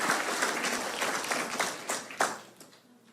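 Church congregation applauding together, a dense wash of clapping that swells in short bursts and then thins out near the end, moderately loud with a few scattered voices underneath.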